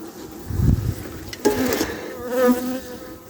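Honey bees hum and buzz close by at a hive in spring, a few louder drones rising and fading over a soft background hum.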